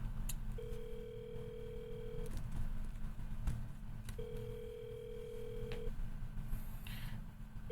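A telephone line gives long steady ringback tones, two clear beeps with pauses between, faint and steady, heard after dialing out with no talk over them.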